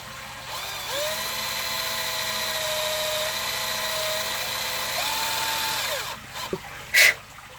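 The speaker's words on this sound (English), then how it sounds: "And now we've got to drill a hole there" Power drill boring a hole in an aquarium base, a steady loud whine held for several seconds with slight pitch shifts as the bit cuts, then it stops with a couple of clicks and knocks.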